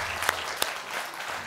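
A studio audience on a Georgian TV comedy game show breaks into steady, full applause that fills the whole stretch at an even level, with a couple of sharper claps standing out.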